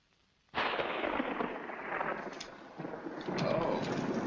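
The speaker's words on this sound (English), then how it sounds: "Looks like a storm's coming up." Thunder from an approaching storm rolls in suddenly and rumbles on continuously, broad and heavy, swelling again toward the end with no voices over it.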